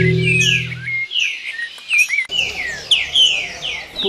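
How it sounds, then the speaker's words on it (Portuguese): A sabiá thrush sings a clear, close run of varied whistled phrases and chirps, loud and alone with no talk over it. "Mas a melhor situação acaba sendo a do sabiá"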